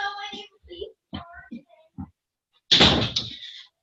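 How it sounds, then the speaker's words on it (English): A room door swings shut with a loud close near the end, following a stretch of quiet speech from a woman nearby. "I'm going to shut my door."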